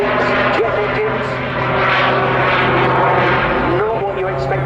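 A biplane fitted with two auxiliary jet engines performs aerobatic display passes at the Southport Airshow, giving a steady loud roar with a sustained droning hum, mixed with an announcer's commentary over a public address system.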